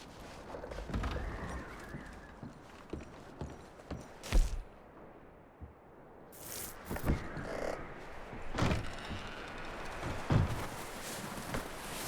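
Horse hooves clopping in Red Dead Redemption 2, with irregular, moderately loud steps over a busy outdoor game soundscape and occasional sharper knocks and bursts.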